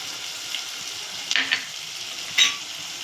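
Ground coriander, cumin and garam masala fry in a pan for street-style green peas chaat, with a soft continuous sizzle and a couple of brief louder stirring scrapes.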